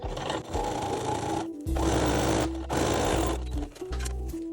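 A sewing machine topstitches along a zip in several bursts, loud mechanical whirring runs that stop and restart with short pauses between.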